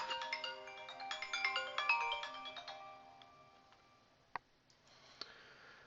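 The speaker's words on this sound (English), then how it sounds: "sorry, I forgot to turn my phone off" A mobile phone ringtone chimes through a bright, tinkling melodic pattern for about three seconds, then fades, followed by a couple of sharp clicks in a quiet room.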